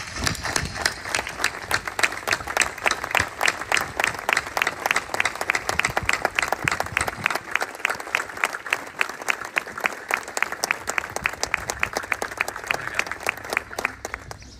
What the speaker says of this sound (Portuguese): através de uma sentida salva de palmas